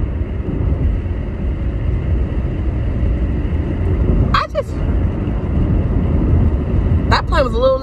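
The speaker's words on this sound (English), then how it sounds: "That plane was a little low." A low-flying airplane passing overhead, heard as a steady broad engine rumble that runs through the whole stretch, with brief sharp transient noises near the middle and the end.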